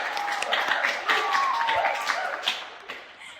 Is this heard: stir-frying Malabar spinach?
no